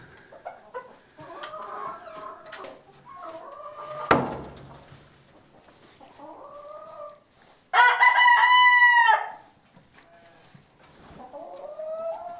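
Hens and a rooster in a backyard coop cluck and chatter in short, close bursts, with one loud crow rising midway and a sharp thump just before it.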